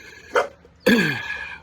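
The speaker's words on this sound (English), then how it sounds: "you can hear my dog barking in the background" Two sharp barks from a dog close by, one short and one longer, with quiet between them.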